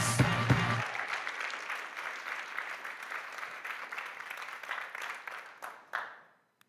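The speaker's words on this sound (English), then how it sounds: "Please applause." Audience applause at a researchers' Grand Prix event, a sustained round of clapping from a crowd that thins out and stops abruptly after about six seconds.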